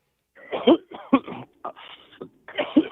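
A short fit of several coughs and throat-clearing sounds, close and fairly loud, with brief pauses between bursts.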